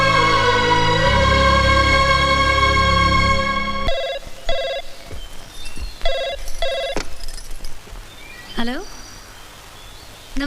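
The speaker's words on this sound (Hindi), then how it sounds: "पंडित जी का फोन है दिल्ली से" An old telephone rings in a 90s Bollywood film scene: a sustained tone opens, then repeated short ring bursts come in a steady pattern, loud and close, with background sounds between the rings.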